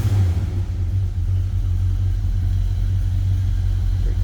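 A 1969 Pontiac GTO 'The Judge' with its 400 engine idles steadily after a cold start, a deep, loud, continuous low rumble close by with no voices over it.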